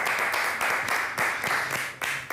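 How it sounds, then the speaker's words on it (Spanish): A team in a TV studio applauds with steady, even clapping at moderate volume that carries on throughout, with faint voices mixed in underneath. "El equipo lo aplaude."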